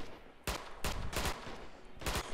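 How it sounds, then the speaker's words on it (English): Sharp, loud gunshots from the video game Red Orchestra 2 ring out in four separate close bursts over a dull battlefield backdrop, with no talk. "just ignore the gun shots"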